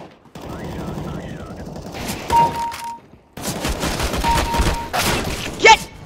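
Bursts of rifle fire in CS:GO, including an M4A4, arriving in uneven clusters among game effects and tones, with a short silent gap between volleys and a sharp loud shot near the end.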